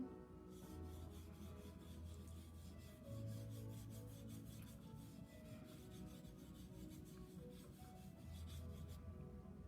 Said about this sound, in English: I'm going to sand off my yellow.